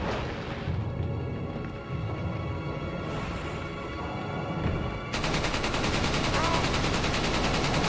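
Rapid gunfire from a weapon in Resident Evil 4: Separate Ways on PS2 rattles steadily throughout, growing louder and denser in the final few seconds.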